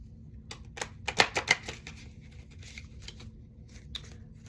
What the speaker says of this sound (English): And then as far as like how do they shuffle